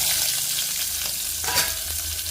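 Tempering spices and chana dal sizzle loudly in hot oil in a pan, a close, continuous crackling fry with occasional stirring scrapes.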